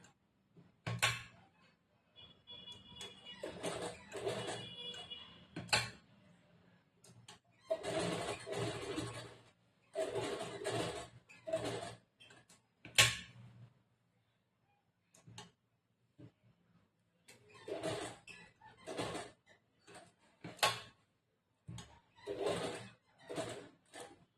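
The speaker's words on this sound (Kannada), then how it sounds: "ಟರ್ನ್ ಮಾಡಿಕೊಂಡು ಸೇಮ್ ಮತ್ತೆ ಅದೇ ಥರನೇ ಸೇಮ್ ಸ್ಟಿಚ್ ಮಾಡ್ತಾ ಇದ್ದೀನಿ" A sewing machine stitches a blouse in short bursts of rapid mechanical whirring, separated by pauses as the fabric is turned, close and fairly quiet, with no talking.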